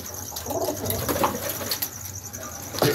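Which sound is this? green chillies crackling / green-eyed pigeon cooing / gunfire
green-eyed pigeon cooing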